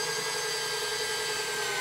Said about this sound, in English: I'll drive it down, reverse my drill